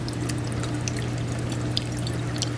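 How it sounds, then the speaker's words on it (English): Water from a Durso standpipe overflow in a 58-gallon rimless aquarium splashes and trickles steadily against the glass and overflow boxes, a continuous close wash with a low pump hum beneath and no talking. "all that splashing is the water getting slapped up against the glass and my overflow boxes."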